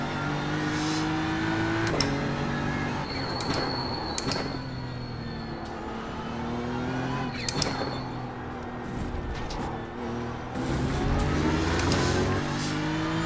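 A race car in a racing simulator game, tuned with a Daytona setup, drones through a lap with an engine note that rises and falls as it shifts and revs, steady and moderately loud, with no talking.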